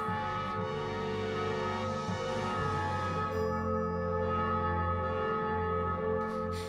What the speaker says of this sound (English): The bell on the fifth night.